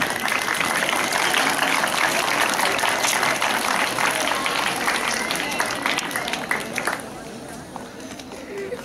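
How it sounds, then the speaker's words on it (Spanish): An audience applauds student poetry reciters at a Tacna anniversary talk, a dense, steady wash of clapping held for about seven seconds before thinning and fading toward the end. "Las recibimos con fuertes aplausos"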